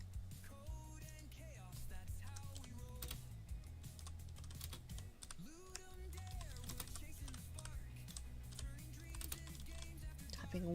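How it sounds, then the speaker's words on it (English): Quick, irregular clicks of a computer keyboard typed one-handed over the top of a tablet, steady and close, with music playing underneath. "Typing one-handed over the top of the tablet."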